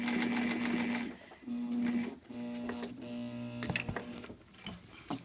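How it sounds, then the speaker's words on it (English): A sewing machine stitches to the end of a bias tape strap for a girl's dress, whirring in bursts with stops and restarts and a sharp mechanical clack partway through. "you're going to continue sewing to the end of this bias tape"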